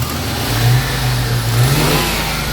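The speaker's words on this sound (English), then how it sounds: "Exhaust blowing for sure." A Ford car engine revs up and down twice at close range, its low throaty drone rough and uneven from a blowing exhaust, with no talking.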